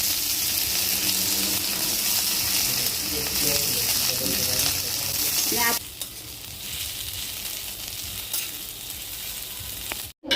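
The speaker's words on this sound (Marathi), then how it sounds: "आलं लसूण कोथंबीर तेल टाकून परतलं" Ginger, garlic and coriander sauté in hot oil with a loud, dense sizzle and stirring. After about half its length the sizzle turns quieter and thinner.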